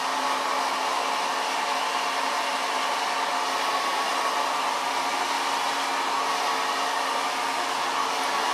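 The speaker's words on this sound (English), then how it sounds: "I take this large brush and I start blow drying in the neckline" A hair dryer blows steadily and loudly while hair is blow-dried with a large brush at the neckline, a constant close-up whooshing roar with no pauses and no voices.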